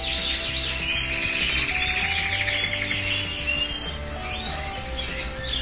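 Canaries in a breeding cage chirp and trill continuously, a busy mix of overlapping bright tweets and rapid warbles, fairly loud and close, with no one talking.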